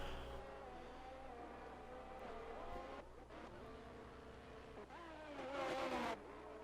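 Formula 1 car engine in a racing video game at Monza, heard through the Parabolica corner: a steady high-pitched whine with shifting tones that dips under braking and rises loudly on acceleration near the end, with commentary talk underneath.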